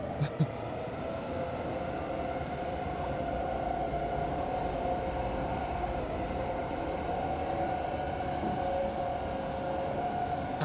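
A train runs along a rail line in a city builder game, a steady loud rumble with a tonal hum that holds for the whole stretch.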